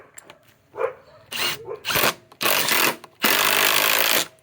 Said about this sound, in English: You always drill a pilot hole.